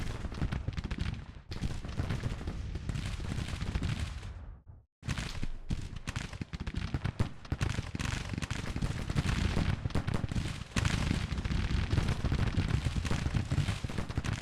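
Dense, continuous musketry from Civil War troops crackles and rumbles in Grand Tactician, a sustained roar of massed gunfire that breaks off briefly before resuming.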